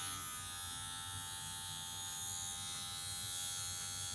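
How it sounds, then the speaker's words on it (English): Electric hair clipper buzzing steadily and close while a barber cuts a fade, one continuous even hum with no pauses and no talking. "as I go down, I'm just gradually closing my clipper until I get to the very bottom."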